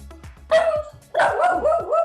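A dog barks outdoors, two loud, close barks about half a second apart with a short yip-like tail, over faint background noise.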